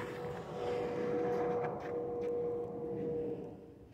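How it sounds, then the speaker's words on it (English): On a snowy day outdoors, a distant airplane drones as a steady low rumble mixed with wind, swelling and fading over a few seconds, with a faint sustained tone running through it. "Can you hear airplane in the wind?"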